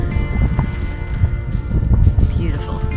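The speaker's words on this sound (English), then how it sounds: "It's a little bit windy and we're in the middle of a cloud." Steady wind buffets the microphone on the summit of Mount Holdsworth, inside a cloud, with a continuous low rumbling roar and gusty swells throughout.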